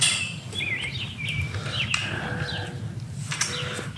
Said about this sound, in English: Birds are loud today, aren't they?